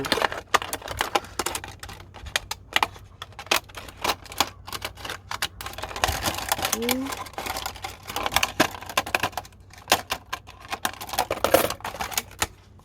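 Scissors snip through a plastic bottle being cut down into a succulent planter, giving rapid, irregular crunchy clicks and cracks up close, with brief speech in between.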